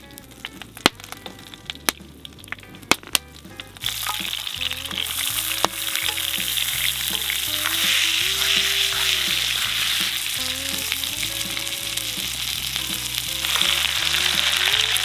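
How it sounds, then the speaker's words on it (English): Steady loud sizzling and crackling of steak searing over an open fire, with a few sharp pops early on and the sizzle swelling louder partway through. "Let's get the steak on the fire."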